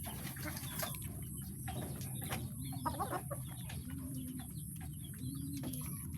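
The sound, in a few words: pet chickens clucking while being fed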